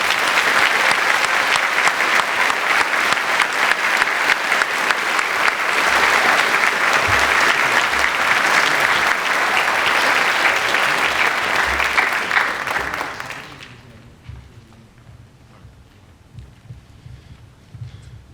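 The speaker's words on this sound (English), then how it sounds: "Ladies and gentlemen, join me in a round of applause as I salute these heroes." An audience at a senior awards night applauds veterans and first responders, a dense, loud, steady round of clapping that fades out near the end and gives way to quiet.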